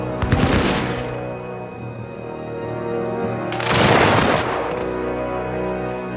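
Two ragged volleys of musket fire, the first a crackling burst and the second a louder, longer rolling fusillade, each trailing off into a fading echo.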